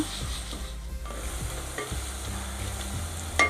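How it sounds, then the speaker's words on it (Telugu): Onion, green chili and curry leaves fry in a pan with a continuous sizzle, while a spoon stirs and scrapes against the metal in repeated close strokes. "ఉల్లిపాయ, పచ్చిమిర్చి, కరివేపాకు ఇవన్నీ కూడా దోరగా వేపుకుందాం"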